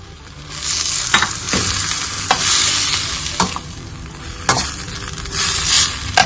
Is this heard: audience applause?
no